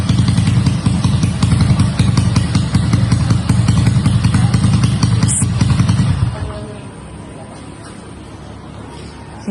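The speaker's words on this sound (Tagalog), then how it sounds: "Yung painit ng makina." A motorcycle engine warms up close by with a loud, steady, clattering idle for about six seconds, then cuts off, leaving quiet room sound.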